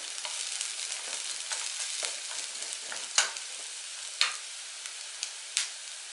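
Onions fry in a pan with a steady broadband sizzle, while a utensil stirs and scrapes through them in a few sharp knocks toward the end.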